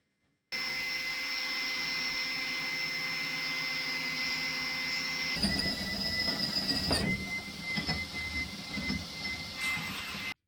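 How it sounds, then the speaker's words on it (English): Power drill boring a large hole straight through the EVA foam flooring on the deck of an aluminium tinnie, a steady loud whine that shifts and roughens partway through as the bit bites, no talking. "drill quite a large hole through the deck"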